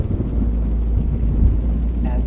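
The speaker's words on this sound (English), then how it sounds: "As the rain falls." Heavy rain and a deep thunder rumble in American Truck Simulator form a loud, steady low roar throughout, with a brief voice near the end.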